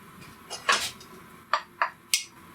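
Bacon strips dropped into a pan over medium heat, giving a few quick clinks and sizzling splats close by, separate bursts in a short span with no talking.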